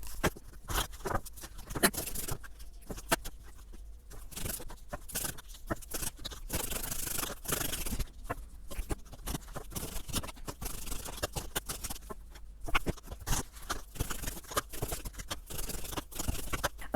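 Tarot cards are shuffled and drawn by hand: a quiet, steady run of papery flicks, riffles and scrapes with brief pauses, close up and with no talking.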